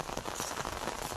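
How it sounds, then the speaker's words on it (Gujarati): Steady rain pours down continuously, a dense hiss of drops pattering on surfaces nearby, with no voices over it. "આજ વરસાદ આવ્યો છે"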